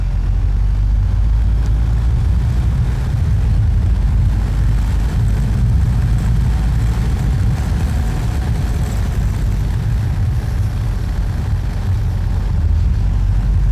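Steady, loud low-frequency engine drone and wind rush of a motorcycle at speed, captured continuously from a helmet-mounted GoPro while riding, with no pauses or speech.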